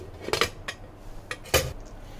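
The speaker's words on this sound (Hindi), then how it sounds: "और कुकर में से प्रेशर निकल चुका है, तो इसे हम खोल लेंगे।" A metal pressure cooker lid is opened after cooking mutton curry, giving a few close clanks and scrapes of metal on metal, with a sharp louder clack near the end.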